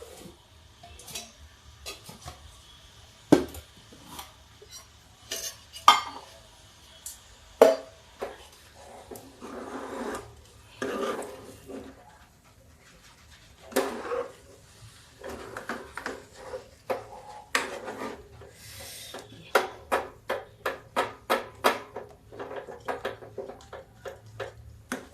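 Water chestnut flour lapsi being spread and scraped with a metal spoon on a ghee-greased plate, a string of sharp clinks and taps that speed up into a rapid run of scraping knocks near the end.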